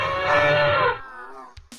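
A single video game cow moo, loud and close, drawn out for about a second, followed by a couple of short clicks and a hiss.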